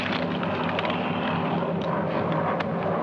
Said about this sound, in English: 3 enemy planes approaching from the east